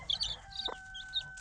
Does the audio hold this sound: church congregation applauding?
no